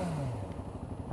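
Yamaha FZ6R motorcycle engine revved nearby, a loud rising then falling roar with a rough, clattering exhaust note.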